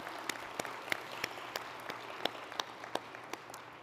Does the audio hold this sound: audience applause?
yes